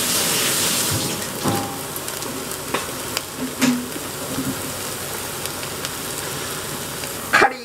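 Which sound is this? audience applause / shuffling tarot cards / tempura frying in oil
tempura frying in oil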